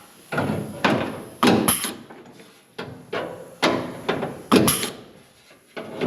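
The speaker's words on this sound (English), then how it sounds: "I'm gonna hole punch the inside of that." A hole punch bites into the sheet metal of a car trunk panel, giving a series of about eight sharp metallic clunks at an uneven pace, each close and fairly loud with short decays.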